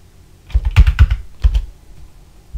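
Several quick keystrokes on a computer keyboard as a password is entered, arriving in two short bursts with a pause between, close and clear in a quiet room.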